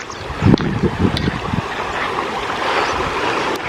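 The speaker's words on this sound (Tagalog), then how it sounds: "Pero yung agos ng tubig. Sarap tingnan, sarap pakinggan." Continuous rushing of a flowing stream outdoors in an open, little-shaded spot in Sariaya, Quezon, with a few bumps and wind buffeting the microphone early on.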